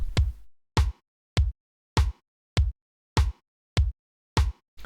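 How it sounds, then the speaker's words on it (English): An FL Studio FPC drum pattern in which a rim hit lands on every second kick, giving eight or so punchy, evenly spaced electronic hits with short silent gaps between them, close and alone. "So you can hear that the rim plays for every second kick"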